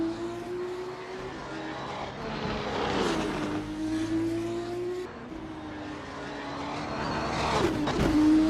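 F2 race cars in a racing video game wind through Monaco's tight, twisty corners, engines droning and shifting pitch as they brake and accelerate, with a steady mid-distance roar and a louder swell near the end.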